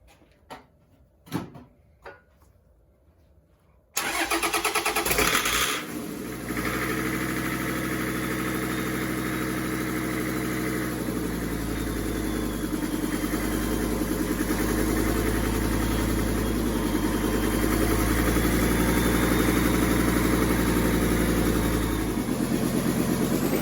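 A Toyota 1PZ diesel engine fitted in a CJ7 cranks briefly after a few clicks, catches with a loud roar, then settles into a steady, rough, close diesel idle that continues throughout.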